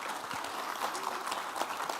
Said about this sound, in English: If we want to give Karen Kirby a standing ovation, a round of applause.